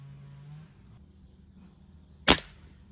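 A single sharp crack from a Kral Puncher NP-01 or Stoeger XM1 air rifle cuts through a quiet outdoor background, loud and brief, after a low hum fades.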